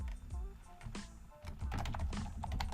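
Typing on a computer keyboard to fill in a podcast episode description: quick, uneven clatter of close key presses, sparse at first and then denser and continuous, with no talk over it.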